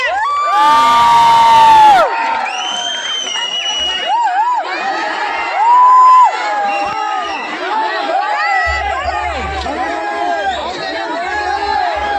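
A crowd of fans at a meet-up cheers loudly, with excited shouts, high whoops and overlapping chatter that swell and fade in bursts.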